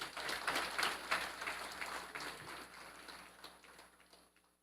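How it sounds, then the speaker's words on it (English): Audience at a police force Christmas award ceremony gives a brief burst of applause that starts strong and gradually fades out over a few seconds. "Give them a round of applause."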